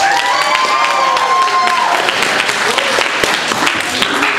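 A studio audience at a quiz show claps and cheers loudly for several seconds, a dense wash of applause with a few whoops and tonal voices near the start.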